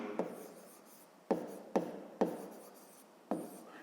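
A pen writes numbers by hand for a fifth-grade maths exercise, making five short, distinct scratching strokes spaced about half a second apart on paper. The strokes are quiet and close, in a silent room.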